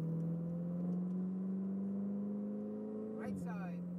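A Ferrari 488 GTB on a track in Las Vegas, its engine holding a steady droning note that climbs slightly under acceleration, with a sharp shift or rev change near the end, heard from inside the car.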